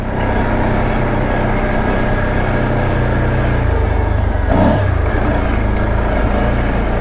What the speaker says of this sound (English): You gotta love the sound of the V-twin engine though.